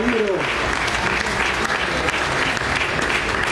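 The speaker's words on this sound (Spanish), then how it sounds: "Y ahora voy a dejar fuerte el aplauso para el compañero" Loud, steady applause from an outdoor crowd at a live huayno show by a folk singer at a protest camp in Plaza de Mayo, Buenos Aires, filling the whole stretch without a break.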